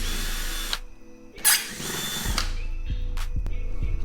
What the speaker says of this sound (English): So I got my drill, and I'm gonna start unscrewing all these screws.